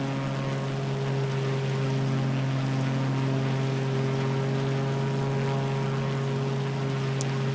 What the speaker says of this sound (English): Engine noise is, of course, very loud in this plane.